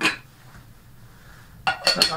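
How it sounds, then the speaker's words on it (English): The lid goes back onto a teapot being warmed for tea, a short ceramic clink and clatter at the end after a quieter stretch of faint room noise. "Put the lid back on."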